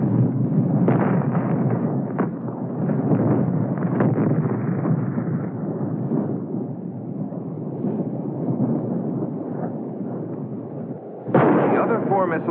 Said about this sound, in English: The first of these was a failure in a spectacular way.